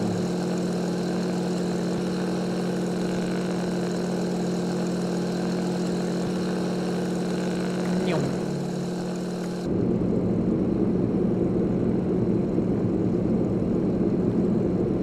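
A Beechcraft A36 Bonanza's propeller engine drones steadily in an X-Plane 11 flight simulator, a constant loud hum that shifts abruptly to a rougher, noisier roar partway through.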